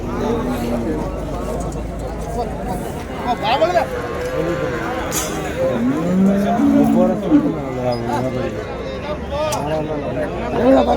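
Cattle at a village market in Matrapalli, with a pair of bull calves among them: repeated moos rise over a steady hubbub of crowd chatter and nearby voices talking, in a busy outdoor setting.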